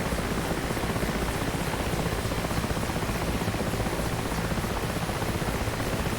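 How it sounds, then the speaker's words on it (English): A helicopter in the DCS World flight simulator roars with a dense, loud, constant rotor-and-turbine wash that holds steady throughout, with no voices. "20 seconds will elapse before this helicopter takes off"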